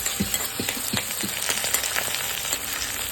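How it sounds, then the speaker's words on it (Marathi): Ground green chili paste fries in a pan for sabudana khichdi, a close, busy crackling sizzle with quick popping spatters throughout. "आता हे वाटण केलेली जी मिरची ती याच्यामध्ये टाकून घेऊया म्हणजे तशी मिरची आपली व्यवस्थित त्याच्यामध्येच भाजून निघेल"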